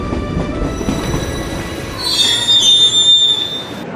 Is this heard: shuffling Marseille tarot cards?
no